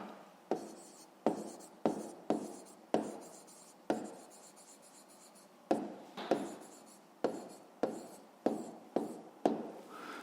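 Pen strokes by hand during a fifth-grade math exercise, a dozen or so short scratchy bursts of writing with pauses between them, close and fairly quiet, with no talking over them.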